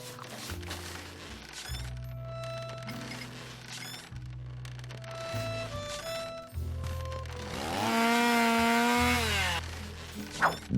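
A gasoline chainsaw in the video game Edna & Harvey, running on high-proof alcohol as fuel, buzzes under steady game music and rises into a louder, whining rev near the end.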